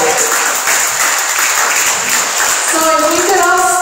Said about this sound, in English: one more round of applause for our teacher again for being our moderator